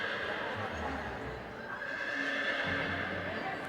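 In the PS1 video game Harry Potter and the Chamber of Secrets, a horse gives a drawn-out neigh over steady game background noise, with soft hoof-like thuds around it.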